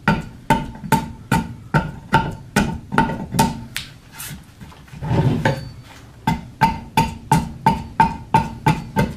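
Walnut bowl hewn with an axe or adze, a close, regular series of sharp chopping hacks into the wood with a short pause partway through and no voices.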